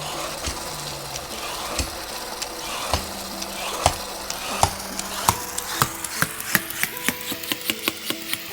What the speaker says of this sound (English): let's peel this and chop it into cubes